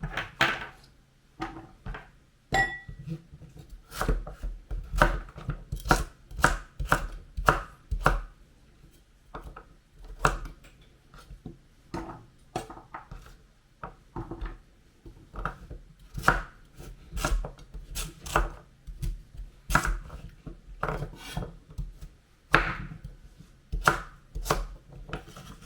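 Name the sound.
chopping sweet pumpkin into small pieces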